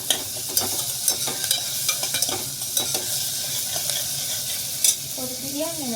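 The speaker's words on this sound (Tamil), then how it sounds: "வெங்காயம் நல்லா வதங்கட்டும்." Onions sauté in a pan for chicken kulambu, a steady close sizzle with scattered stirring clinks and scrapes throughout.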